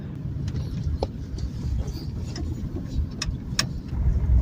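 An old Subaru rolls along a bumpy two-track trail, its steady low engine and road rumble filling the clip, with scattered light knocks and rattles from the rough ground and no talking.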